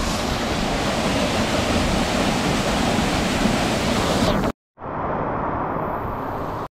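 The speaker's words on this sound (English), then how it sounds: "there's another big beautiful waterfall behind there" A big waterfall in a Trinidad rainforest roars as a loud, dense, steady rush of falling water, cutting out abruptly for a moment before resuming slightly softer.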